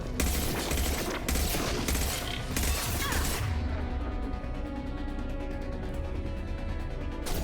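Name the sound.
turret gunfire in the video game Mass Effect 2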